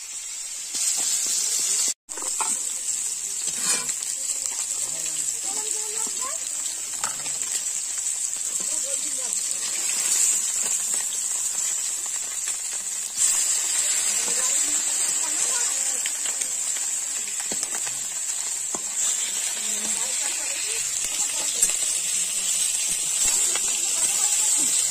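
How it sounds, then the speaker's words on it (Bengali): Fish fries in hot oil in a home kitchen in the Sundarbans, giving a steady, even sizzling hiss that carries on throughout while someone talks over it. "সব মাছ কিন্তু ভাজা কমপ্লিট হয়ে গেছে।"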